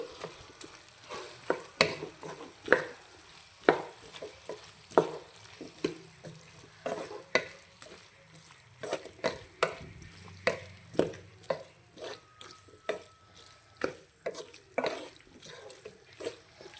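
Potato curry being stirred in a pan, heard as a steady series of close scraping and clacking utensil strokes against the pan over a faint background sizzle.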